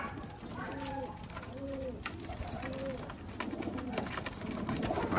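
Pigeons coo softly in repeated low, rolling calls, several overlapping at moderate distance over a faint background hum.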